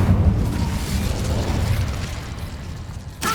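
A fire spell cast in the Hogwarts Legacy video game: a sustained, loud whooshing burst with low rumbling roar throughout, ending with a short sharp crackle.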